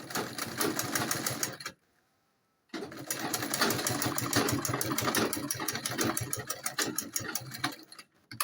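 A sewing machine stitches down the folded edge of ankara fabric, its rapid mechanical chatter running loud and close, stopping for about a second before resuming at the same fast, steady pace.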